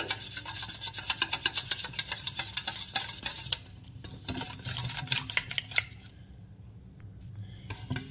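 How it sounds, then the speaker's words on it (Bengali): A thin batter is stirred and beaten in a bowl, giving a steady wet scraping and swishing with rapid strokes that ease off and then stop near the end, close and quiet with no talking. "ব্যাটারটা ভালো করে মিক্স করে নিলাম, একদম পাতলা করে।"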